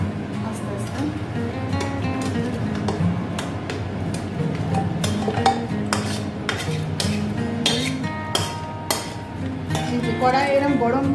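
Meat being stirred in a hot metal pot with a ladle, giving irregular scraping clinks and knocks of metal on metal, with someone talking throughout.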